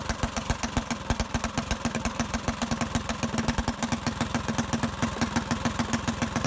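A Ducar 212 Hemi small engine idles after its idle speed is lowered, giving a steady, fast, even chugging that stays loud and close throughout without any voices.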